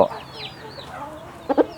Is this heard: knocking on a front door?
no